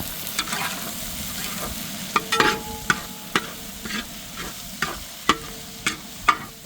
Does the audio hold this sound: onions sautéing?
yes